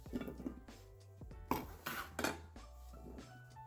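Eggplant Parmesan being placed into a casserole dish, with soft clinks and scrapes of a utensil against the dish and several brief knocks, quiet and close with no talking.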